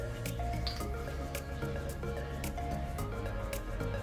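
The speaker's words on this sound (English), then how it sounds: "Half ounce lime juice. Firstly squeeze." Fresh lime juice is squeezed for a paloma cocktail, giving a steady run of wet squishing and dripping with repeated small splashes, close and fairly loud.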